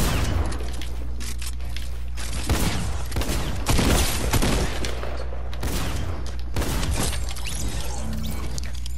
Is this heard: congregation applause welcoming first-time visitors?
no